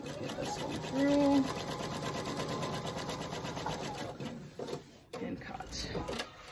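A sewing machine hums steadily as it stitches a quarter-inch seam on a scrappy star quilt block, loud and close throughout, with a brief voice partway through and handling noises near the end.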